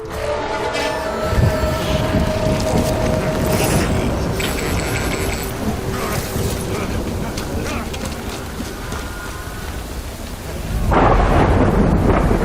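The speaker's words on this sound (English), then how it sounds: "Good thing it was raining." Heavy rain pours steadily during a thunderstorm in the video game Death Stranding, with rumbling thunder rolling through and a loud surge of downpour near the end.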